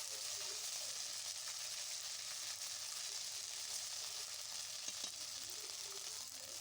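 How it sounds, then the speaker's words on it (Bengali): Onion fries with ginger garlic paste in hot oil, a soft, even sizzle with faint occasional pops and stirring. "এবারে পেঁয়াজটা ভাজা হয়ে গেছে। এর মধ্যে দিয়ে দিলাম আদা রসুন বাটা।"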